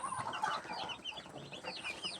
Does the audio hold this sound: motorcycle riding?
no